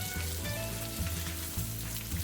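Salted onion slices fry in a pan for mutton keema pulao, giving a steady close sizzle with soft low thuds at regular intervals.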